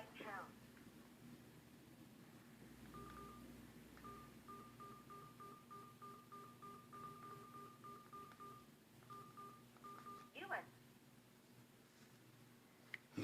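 Phone keypad DTMF tones dialing a Zoom meeting ID, a run of short evenly spaced beeps over a steady hum and faint line noise, fairly quiet.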